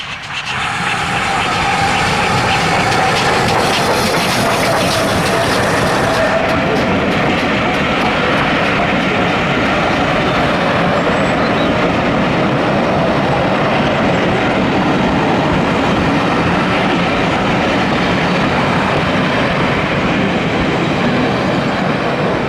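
Steam locomotive No.3 runs with a passenger service on the West Somerset Railway toward Minehead during an autumn steam gala. A loud, close, continuous rumble of wheels and clattering coaches fills the whole stretch as the train passes.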